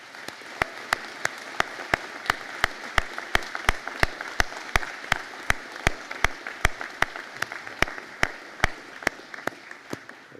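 A standing audience at a graduation conferring ceremony applauds the Master of Science in Industrial Pharmaceutical Science class, a steady wash of clapping with a sharp, evenly spaced clap repeating loudly throughout.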